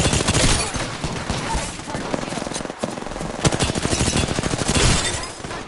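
Rapid automatic gunfire in a video game squad battle, loud, dense bursts of shots rattling continuously with a brief lull midway before resuming.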